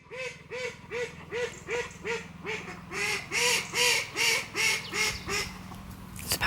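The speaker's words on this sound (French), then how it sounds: "C'est pas content les canards." Ducks quack in a rapid rhythmic series of loud, close honking calls, about a dozen in a row, growing more insistent partway through.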